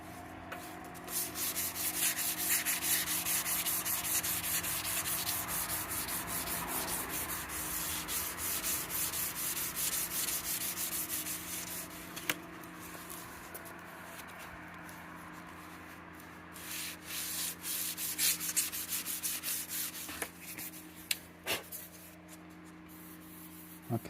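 A Mustang trunk lid being sanded by hand with 400 grit sandpaper, close rhythmic scratchy strokes repeating continuously with brief pauses, no talking.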